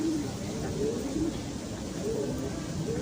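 A racing pigeon coos in heavy rain after returning from a race, soft low coos repeating a few times through the clip over a steady wash of rainfall, with faint voices in the background.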